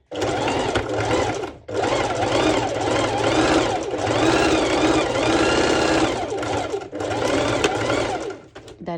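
A sewing machine stitches fabric for ruched-side pole dance shorts, its close, loud mechanical whirring running in several long bursts with brief pauses between them.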